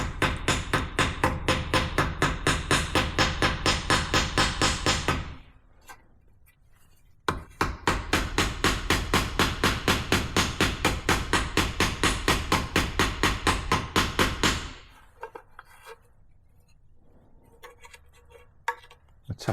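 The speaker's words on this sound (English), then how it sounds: "tapping around with a ball peen hammer" Rapid, regular ball peen hammer taps ring on the metal flange of a 1914 Napier water pump in two long bursts separated by a short pause, close and loud.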